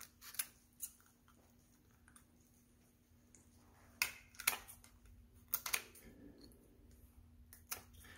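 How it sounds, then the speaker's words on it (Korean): Kitchen scissors snipping through a lobster shell to cut it in half: sparse, sharp crunching clicks and snaps, a few isolated then a cluster of louder cuts, close and quiet with no talk. "랍스타 가운데로 가위를 넣고 가위질을 이렇게 반을 잘라줍니다."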